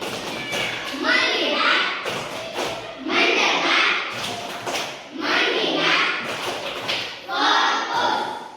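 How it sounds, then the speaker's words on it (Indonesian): Schoolchildren in a classroom performing a rhythmic clap-and-chant routine, four loud bursts of clapping mixed with their voices in a steady repeating pattern. "Tepuk fokus."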